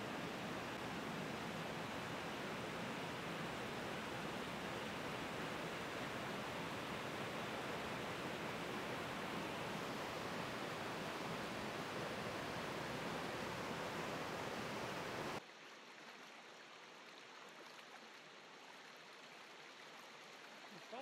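Steady broadband rush of a mountain brook, the North Fork of the Piney River near Piney Forks, Virginia, flowing over rocks and pools, close and constant, dropping to a quieter, thinner wash for the last few seconds.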